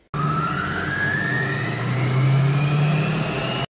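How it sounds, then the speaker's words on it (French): A blender runs at top speed puréeing cooked red lentil soup, giving a loud, steady motor whine that climbs slightly in pitch over about three and a half seconds, with no talking. "Maintenant, on va mixer 1 minute,"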